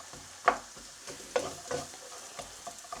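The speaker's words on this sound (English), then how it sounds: "Make sure everything's coated in that oil and the bacon fat." Bacon stirred in sizzling oil in a pan: a soft steady fry hiss with several distinct scraping stir strokes at irregular intervals, close and fairly quiet, no talking.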